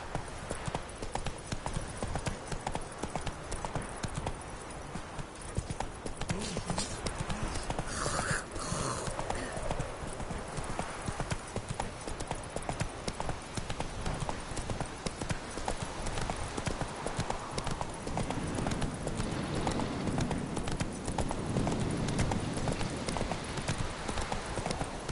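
Roach, Geralt's horse in The Witcher 3, gallops without pause: a loud, continuous drumming of hooves, close and driving throughout, with a brief snort partway and faint background game ambience.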